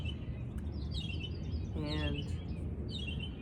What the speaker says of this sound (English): As you can hear, we're outside with the birds.